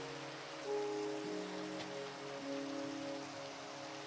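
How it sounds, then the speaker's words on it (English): Rain falling in the Minecraft video game, a soft steady hiss of drops with faint tonal background music, quiet and even throughout. "A little bit of rain here."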